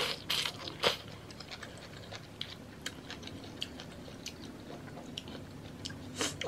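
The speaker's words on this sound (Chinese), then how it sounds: "再吃一个哦，太脆了" Someone chews a crunchy triangle-shaped snack close up, with a few loud crisp bites at first and then a steady run of softer crunching and clicking, without talk.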